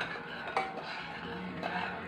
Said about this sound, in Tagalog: Haluin din ito mabuti.